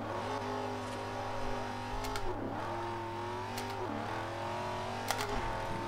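An Ultima GTR supercar in Forza Horizon launches hard from first gear, its engine droning steadily and rising through the revs, with brief shifts breaking the pull, loud and continuous throughout.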